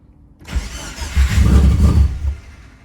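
After a silent moment, a Subaru Forester STI engine with raised idle and retarded timing cranks and fires, its loud rumble swelling and then fading within about two seconds.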